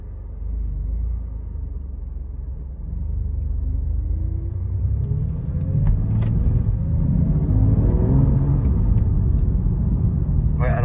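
A BMW M2 CS on the road gives a soft, muted engine rumble from inside the cabin that rises steadily as the car accelerates, with a growing tonal sweep and no talking.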